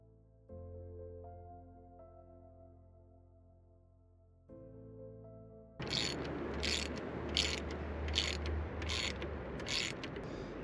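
A ratchet wrench loosens a T55 Torx bolt on a BMW R1300GS motorcycle while lower crash bars are fitted, first with smooth tones, then a loud, rapid rhythmic clicking of the pawl for several seconds, up close.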